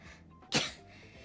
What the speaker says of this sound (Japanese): なあ、くしゃみ出そう。